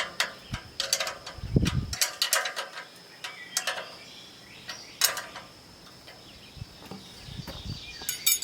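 Bolts with lock washers being tightened on a TV antenna tower outdoors, heard as a series of sharp metallic ratcheting clicks and creaks in bursts, with faint birds in the background and no talk.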